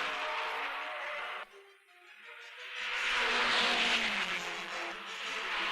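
1950 Grand Prix racing cars, Ferrari and Maserati, at a race; a rising and falling engine roar from cars at speed, briefly dropping away before a loud wailing pass builds and lingers, heard through old film sound.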